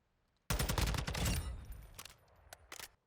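A TAQ 56 rifle fires in a video game at a 50-meter range: a loud, rapid burst of shots followed by a few separate single shots, with no talking.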